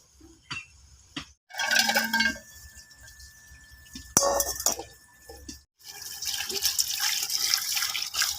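Spinach greens rinsed in a bowl of water in a home kitchen, with intermittent splashing, dripping and light clinks of a vessel, pauses between handfuls and a longer steady swish of water near the end.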